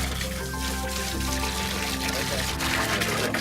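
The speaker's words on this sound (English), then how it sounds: "Once that is done, pour in some water." Water pours steadily into a drum being set up for a seed raising mix, a continuous splashing trickle under a voice speaking over it.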